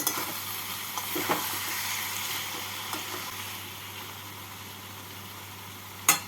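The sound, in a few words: stirring chilies and fried prawns in a sizzling pan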